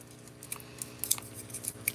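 Scissors cut paper for a journal, close and quiet, in a string of quick, crisp snips and clicks spaced irregularly over two seconds with no talking.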